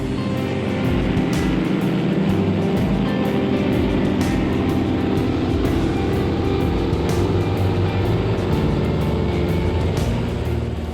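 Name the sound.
helicopter descending and landing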